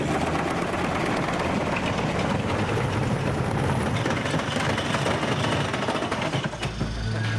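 A car engine revving through first, second and third gear is played loudly through a speaker, a dense continuous roar lasting several seconds with no talk.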